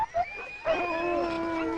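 Hungry dogs on flooded ground howl and whimper close by, a long sustained wavering howl rising after a few short whines and yips, with several voices overlapping.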